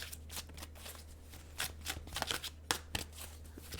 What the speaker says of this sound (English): so I'll pull out a couple additional cards here